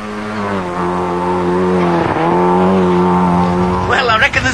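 A Skoda rally car tearing along closed village roads before the RAC rally, its engine holding a loud steady high-revving tone that dips briefly mid-run, then breaks into rougher bursts near the end.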